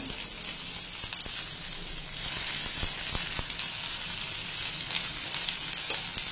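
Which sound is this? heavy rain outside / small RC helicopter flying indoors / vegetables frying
vegetables frying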